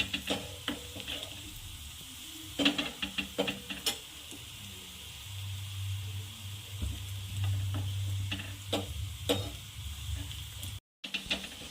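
Green chilies frying in hot oil for a fasting sabudana chivda, giving a steady close sizzle broken by sharp pops and spoon-stirring clatter, with a low hum running underneath for a few seconds and no talking.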